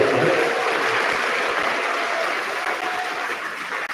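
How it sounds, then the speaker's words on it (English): Steady, dense applause from a graduation audience honoring 8th grade graduates, a large crowd clapping continuously, loud and close, fading slightly near the end. "Let's clap it up there."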